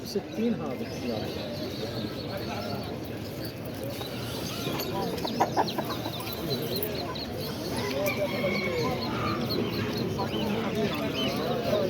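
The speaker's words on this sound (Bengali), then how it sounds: "এগুলো হচ্ছে রাতা মুরগা, এটাও রাতা মুরগা" Chickens and roosters cluck and call at a bird market in Dammam, Saudi Arabia, with scattered close bird sounds over busy crowd noise while someone talks throughout.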